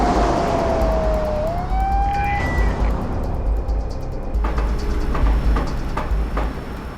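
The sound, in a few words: police car siren passing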